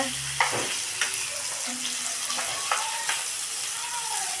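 Tomatoes frying in a pan while being stirred: a loud, close sizzle with periodic scraping and clinking strokes from the stirring utensil, and a voice heard briefly at the start.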